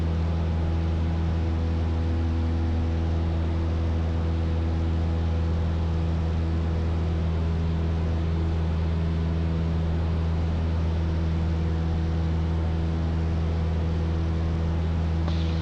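A light aircraft engine on its takeoff roll at Phoenix Goodyear Airport, a loud, steady droning roar with strong low harmonics, heard close from inside the cockpit and unbroken throughout.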